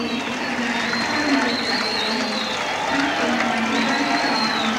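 Steady crowd noise at Parramatta Stadium as Sydney Olympic supporters celebrate after a football match, a continuous broad roar with cheering swells, heard at a distance under a commentator's voice.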